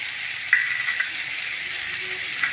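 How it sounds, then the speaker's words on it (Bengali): Ginger, garlic, capsicum, onion and tomato sizzling together in a frying pan for an egg and soybean curry: a steady, close hiss with a few light stirring clicks. "আদা রসুন ক্যাপসিকাম পেঁয়াজ কলি টমেটো সব একসঙ্গে কষাবো।"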